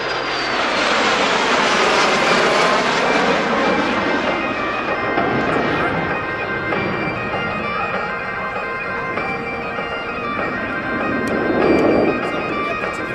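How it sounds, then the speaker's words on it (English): A de Havilland Vampire and a CF-18 fly past together in a Heritage Flight at an airshow in London, a loud, sustained jet roar that swells and holds, then surges again near the end, with no talk over it. "Leading in the Vampire and the CF-18 in our first pass, the Heritage Flight."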